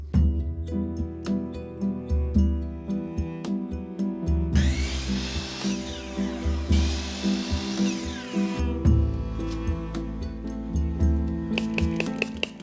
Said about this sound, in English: I made my own little sanding block for hook and loop sandpaper discs